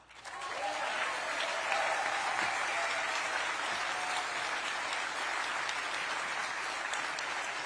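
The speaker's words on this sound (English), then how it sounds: "I know you may all get tired of clapping" Convention delegates at a Maine Democratic Party gathering applaud steadily, a dense, sustained wash of many hands clapping that swells quickly and holds loud and even throughout.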